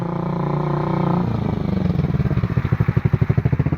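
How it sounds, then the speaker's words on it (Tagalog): A motorcycle engine runs close by, a steady drone that turns into a loud, rapid, pulsing putter as the bike nears and passes on a rural road on a fine morning. "So hanggang abot dito na yung mga motor kasi ang ganda ng panahon."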